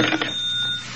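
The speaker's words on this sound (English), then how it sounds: "And then the phone rang." A telephone bell rings in an old radio drama, a single brief jangling burst that fades quickly, close and fairly loud, with no voices over it.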